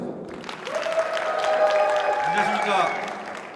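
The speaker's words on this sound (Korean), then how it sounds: "자, 박수로 함께 하겠습니다." An audience at a science creativity concert applauds to welcome a teacher onto the stage, a swelling round of clapping that peaks mid-way and eases off, with voices audible over it.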